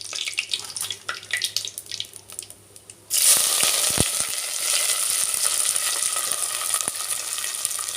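Green chillies and curry leaves drop into hot oil, and a loud, steady sizzle rises abruptly partway through and carries on close up to the end, after a quieter stretch of kitchen noise.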